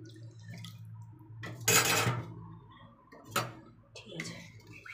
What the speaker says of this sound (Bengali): সামান্য একটু জল দিচ্ছি।